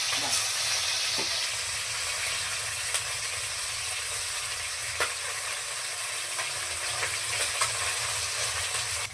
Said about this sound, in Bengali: তেল গরম হয়ে গেছে, মাছ দিলাম